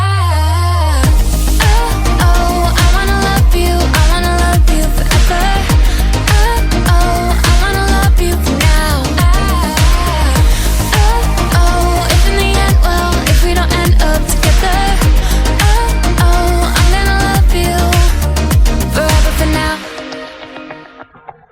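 A single, an electronic pop song with polished production, plays loud and continuous with steady beat and sung melody for about twenty seconds, then cuts off abruptly into near silence.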